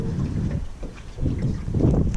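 Wind buffets the microphone on a fishing boat out on the water while crappie fishing, a steady low rushing roar with gusts swelling toward the end, no voices.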